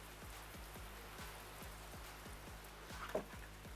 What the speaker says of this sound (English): It is raining like freaking cats and dogs out here.